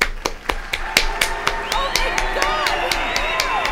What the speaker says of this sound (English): I'm hearing boos mixed in with those claps.